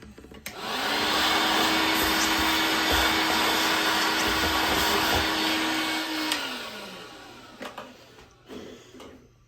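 A vacuum cleaner switches on with a steady loud whine and airy roar, runs for several seconds, then winds down, followed by light bumps.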